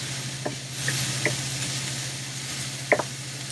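Shallots and garlic sautéing in a pan for a roast beef dinner: a soft continuous sizzle with a low hum beneath, punctuated by a few light stirring clicks and scrapes, no talk.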